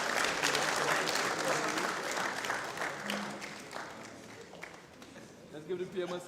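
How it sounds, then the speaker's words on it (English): A crowd at a tech forum's ICT Week final day applauds and cheers, a loud dense roar of clapping that slowly fades as voices rise over it near the end. "So everybody give a cheer."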